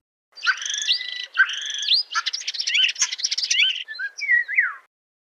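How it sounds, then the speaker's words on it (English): A common starling sings alone and close: bright whistles, sliding notes and a dense stretch of clicks and rattles, followed by falling whistled phrases before it stops. "Starling."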